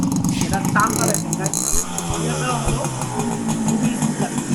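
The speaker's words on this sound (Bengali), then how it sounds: "সাউন্ডটা দেখেন, অসাধারণ সাউন্ড।" A Honda CDI 100cc motorcycle engine idles steadily and close by, its even low rumble continuing under someone talking throughout.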